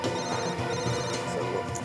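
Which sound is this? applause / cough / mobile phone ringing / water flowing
mobile phone ringing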